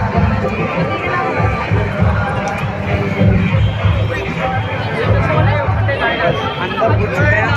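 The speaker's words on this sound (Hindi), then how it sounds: "आप लोग देख सकते हैं काफ़ी ज़्यादा भीड़ है।" Dense crowd chatter fills a busy Durga Puja pandal in Kolkata, a steady close babble of many voices with scattered shouts and no pauses.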